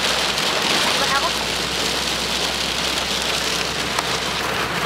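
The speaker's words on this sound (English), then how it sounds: "It's raining." Steady rain falls in a dense, continuous hiss across the whole stretch, with scattered drop patter and a faint voice or two in the background.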